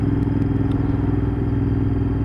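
Royal Enfield Continental GT650 twin-cylinder engine on the road, a steady throbbing low drone held at constant revs with wind rush on top and no gear changes.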